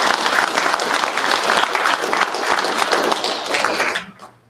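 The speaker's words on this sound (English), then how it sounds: "a big round of applause for Phil, please" An audience at a drag racing awards ceremony at the PRI 2025 trade show gives a loud, dense round of applause that runs steadily before dropping away abruptly near the end.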